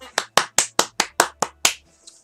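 One person clapping hands eight times in a steady rhythm, sharp and close, followed by a faint trailing sound.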